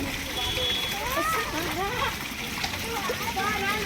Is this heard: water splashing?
yes